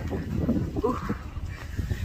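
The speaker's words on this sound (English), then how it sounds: "Oh, it's windy." Outdoor wind buffeting and rumbling across a microphone during a stroll through a downtown holiday market, a steady low roar that persists for the whole moment with faint voices in the background.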